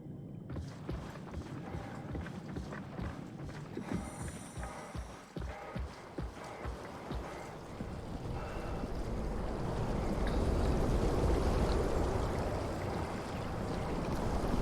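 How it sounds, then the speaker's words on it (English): Wind blowing in the SOMA video game, a steady rushing gust that starts over faint rhythmic knocks and swells louder and fuller through the second half, with no talk. "Windy."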